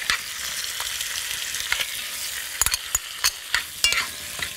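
Onion sizzling in a hot pan for a liver dish, a steady hiss with a run of sharp spoon taps and scrapes near the end, close and clear.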